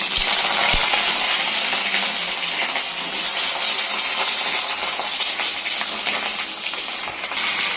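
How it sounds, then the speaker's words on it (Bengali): Cut eggplant goes into hot oil in a wok and fries with a continuous loud, bright hiss and sputter. A couple of short clicks are heard near the start. "এখন কেটে রাখা বেগুনগুলো দিই।"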